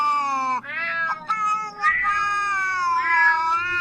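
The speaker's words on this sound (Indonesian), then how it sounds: "Kucing apaan tuh? Suaranya gede banget." Several cats meowing loudly and close, long drawn-out wailing yowls that overlap and rise and fall, with a faint low hum underneath.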